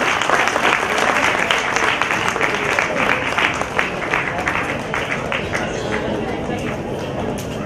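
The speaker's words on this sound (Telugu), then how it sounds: "ఇంకొకసారి గట్టిగా క్లాప్స్ కొట్టి వాళ్ళని ఆశీర్వదించండి." An audience at a music academy's 20th anniversary celebration claps loudly and continuously, a dense wash of many hands that stays strong and then eases slightly toward the end.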